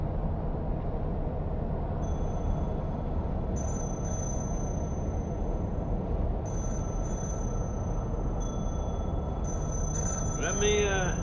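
A telephone rings in three separate bursts of bright, trilling electronic double rings, moderately loud over a steady wash of background noise.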